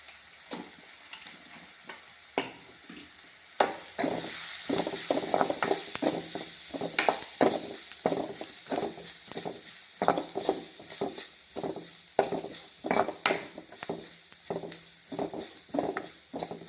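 Spiced masala bonda mixture with pepper, asafoetida and garam masala is sautéed in a pan, giving a steady sizzle under a long run of rhythmic, clattering spatula scrapes.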